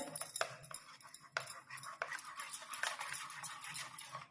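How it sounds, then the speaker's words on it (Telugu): A spoon stirs a coconut and vermicelli sweet mixture in a vessel, giving faint, close scraping and clinking strokes in an uneven rhythm. "బాగా లిక్విడ్లో వచ్చేలా కలుపుకోవాలి"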